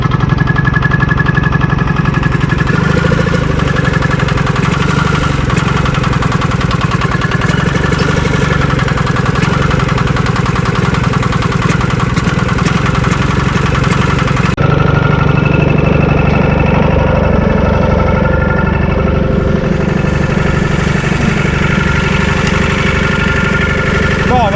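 A Massey Ferguson 821D tractor with a Hanomag two-stroke diesel engine runs loud and close, holding a steady, rough, knocking idle with no break throughout.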